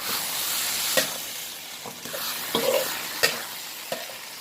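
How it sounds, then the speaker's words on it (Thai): Pork and homemade chili paste for nam ngiao are stir-fried in a hot pan, with a constant sizzle and intermittent scrapes and knocks from the stirring utensil. "ผัดน้ำพริกเตร็จใส่หมูนะคะผัดหมูต่อ ผัดจนหอมค่ะ"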